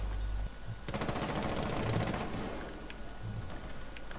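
An enemy's gun fires a rapid automatic burst in Rainbow Six Siege, close and loud crackling shots over a low rumble, followed by a few scattered thumps.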